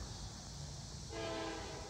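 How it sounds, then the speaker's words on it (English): A train approaching near a railroad diamond beside houses, with a steady rumbling wash that turns into a loud, sustained horn blast toward the end, heard without any talking. "Here comes the train."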